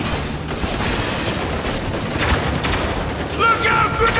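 Gunfire from the video game Spec Ops: The Line: loud, dense bursts of rifle and machine-gun fire crackle continuously with battlefield noise, and faint shouted voices mix in.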